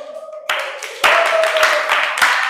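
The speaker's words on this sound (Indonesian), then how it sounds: "Boleh tepuk tangan." A school class claps for a student group after its presentation, a bright, uneven patter of hands with sharp bursts and short pauses, while a steady tone hums faintly underneath.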